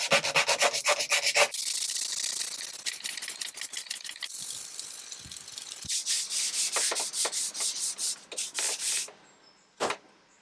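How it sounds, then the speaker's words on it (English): Wooden furniture being restored is sanded by hand in quick rhythmic rubbing strokes, close and fairly loud, pausing and thinning out mid-clip before resuming in bursts, ending with a brief knock. "So now I'm just gonna do many hours of hand sanding"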